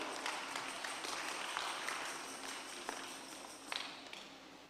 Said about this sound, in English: won't you clap for yourself?